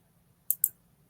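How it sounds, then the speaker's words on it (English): A few sharp computer keyboard clicks, two close together then one more at the end, near and fairly quiet over a low background hum during a recovery podcast recording. "A lot of clicking, I'm sorry."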